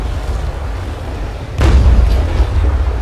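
Ship's cannon firing at sea in the naval combat game Naval Action, a single deep, loud boom that rumbles out over steady wind and water noise, with no talk.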